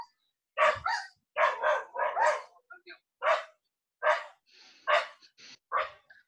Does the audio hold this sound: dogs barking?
yes